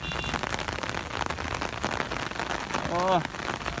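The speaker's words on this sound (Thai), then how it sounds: "ลุยกลางฝนเลย" Rain falls steadily as a broadband hiss on a wet outdoor work site where a crew keeps working, and a brief voice rises above it near the end.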